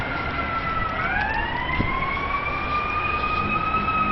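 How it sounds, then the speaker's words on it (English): A fire truck's siren wails steadily and rises in pitch as it approaches, heard from a truck cab over constant road and engine rumble in the background on a drive between British Columbia and Alberta. "there's a fire siren coming along, a fire truck coming along here"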